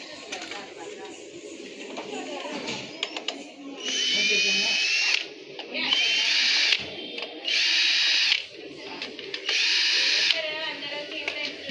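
An electric drill boring holes for grinder switch box wiring, four loud high-pitched whining bursts of a second or so each with short pauses, close up, alternating with clattering handling noise and some voices.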